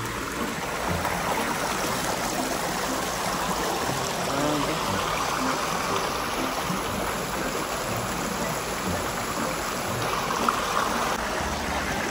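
Steady broadband rush of falling water, continuous and fairly loud throughout, with no voices.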